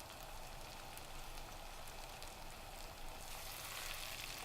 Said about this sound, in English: Now we are going to fry the rabbit with the rest of the ingredients for at least 2 to 3 minutes.